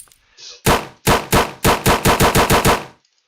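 Rapid gunfire from a video game under development, a short burst of about ten loud, sharp shots in quick succession, the later ones coming faster, with no talking.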